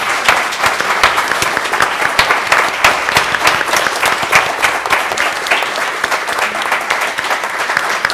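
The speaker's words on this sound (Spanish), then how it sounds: "despidamos con un aplauso a nuestros amigos" An audience at a literature and memory gathering of Ibero-American letters at Fundación Casa claps loudly and steadily to close the session, with many overlapping hands forming a full, sustained round of applause.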